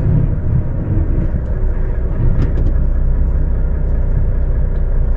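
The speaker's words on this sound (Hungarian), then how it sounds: "Keskeny nyomközű villamos." A narrow-gauge tram passing on a street, a loud steady rumble of wheels and motor with a few brief metallic squeals and clicks along the rails, heard alone.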